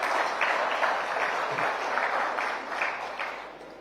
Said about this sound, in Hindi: इसके लिए एक ताली बजाना बनता है